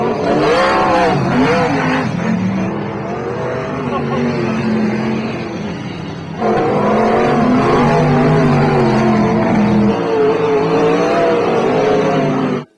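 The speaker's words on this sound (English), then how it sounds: "watching them go around the track, dirt flying everywhere" Winged sprint cars race around a dirt track with a loud, continuous engine roar. The pitch rises and falls as the cars pass, and the sound surges again midway through.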